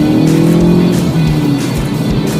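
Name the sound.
Volkswagen Golf GTI 2024 2-litre turbo accelerating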